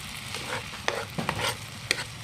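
Creamy tofu with salted egg being stir-fried in a pan with a little water and milk, giving a steady low sizzle broken by several sharp scraping stirs of the utensil, close and fairly quiet.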